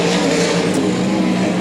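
Limited sprint cars racing on a dirt oval track, a steady loud engine roar from several cars at full throttle, sustained and close, with no talk over it.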